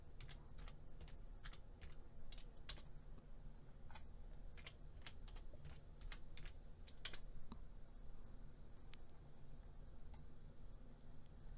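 Keys clatter on a computer keyboard during accounting data entry, a steady run of quiet clicks with a few sharper taps like the Enter key, close by and without speech.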